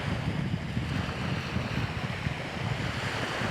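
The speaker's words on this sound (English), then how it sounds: "Hopefully you can hear the water." Ocean waves at Miami Beach at sunrise, a continuous soft wash of surf mixed with wind noise on the microphone, steady and fairly faint.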